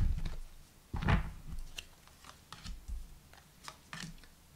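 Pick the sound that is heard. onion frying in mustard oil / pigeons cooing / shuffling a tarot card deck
shuffling a tarot card deck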